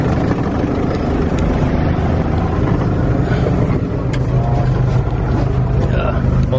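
A tap tap shared taxi in Haiti rumbles along with a steady, loud engine and road roar, wind buffeting the microphone throughout, and voices faintly mixed in.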